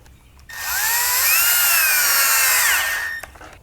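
A cordless power drill drives a screw into a Kreg Track Horse, a loud steady whine rising in pitch as it spins up, holding for about three seconds, then cutting off abruptly, close up with no speech.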